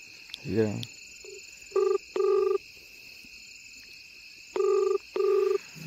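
A phone rings in two double bursts, each pair of electronic tones separated by a pause, with a brief voice at the start and faint insect-like hiss behind.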